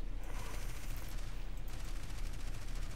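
Aircraft machine gun in War Thunder firing in a long, rapid, unbroken burst at a tree line, a dense rattling roar that stays loud and steady throughout.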